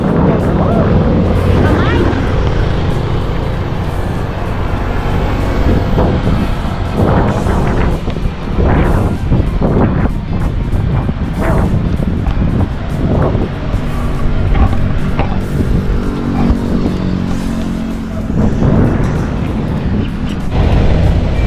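Road traffic on a motorbike ride through Dasmariñas near SM Dasma, with a steady engine drone, wind buffeting the microphone, and passing vehicles swelling and fading while the rider talks.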